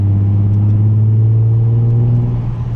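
A Nissan 350Z engine idles near 2000 rpm in a château setting, a loud, steady low rumble with a strong droning hum running unbroken throughout.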